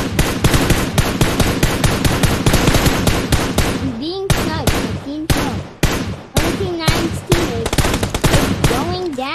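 Rapid bursts of automatic gunfire and single shots from a video game battle royale match, loud and close, in dense volleys that break into spaced shots with brief gaps.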